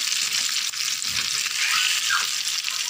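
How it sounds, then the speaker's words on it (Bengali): Fish frying in a pan gives a steady, loud broadband sizzle with a few brief stirring scrapes, and no voices over it. "আলহামদুলিল্লাহ মাছটাও ভাজা হয়ে গেছে।"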